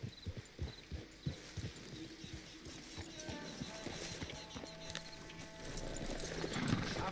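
Horses walk in Red Dead Redemption 2 with a steady clip-clop of hooves on a dirt road, fairly close, plus an occasional snort and ambient game sounds that swell slightly toward the end.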